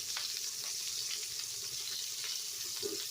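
Mustard and collard greens browning in a pan give off a steady hiss of frying, low and even, with a few faint stirring clinks and no talking.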